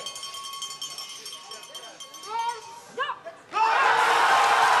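Spectators cheering at a women's World Cup bobsleigh race in Winterberg, a loud roar of crowd noise surging up after commentators talk over cowbell clanks and scattered shouts.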